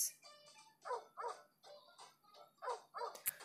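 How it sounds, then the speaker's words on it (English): A dog in the mobile puzzle game Clue Hunter barks repeatedly in a steady series of about six short, bright, yappy barks, close and clear against an otherwise quiet background. "And that's a dog."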